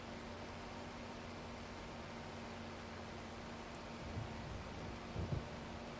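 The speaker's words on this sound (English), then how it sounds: "we're plowing in a thunderstorm" A thunderstorm in Farming Simulator 25, heard during plowing: steady faint rain hiss with a low background hum and a couple of soft, distant rumbles near the end.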